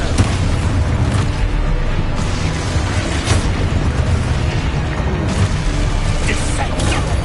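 Continuous loud booming and crashing from the Expulso explosion spell and other combat magic in Hogwarts Legacy, a dense, unbroken roar of blasts and mechanical clatter with no pause.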